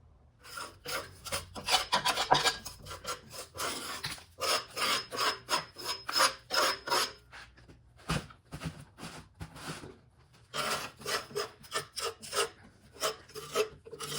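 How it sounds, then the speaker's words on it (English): Repeated rasping scrapes as debris is cleaned off a 60-inch Farm King finish mower deck, loud, close strokes in quick bursts with brief pauses between them, no talking. "I'm going to do some cleaning here. We'll get rid of all this debris where you can see what's going on."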